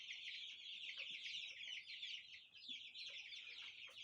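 A flock of chickens with chicks and a few roosters makes a busy chorus of high cheeping and scattered clucks, continuous and fairly faint, with no voices.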